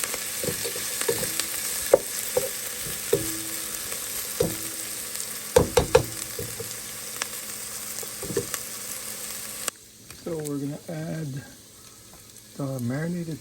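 Onion, garlic and pork brown in a pan with a low sizzle, broken by scattered stirring clacks of a utensil. Near the end a voice briefly talks over the cooking.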